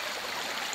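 Icy spring water streams out of the ground in the taiga, a steady close rushing and gurgling wash with no voices.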